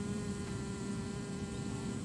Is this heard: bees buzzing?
yes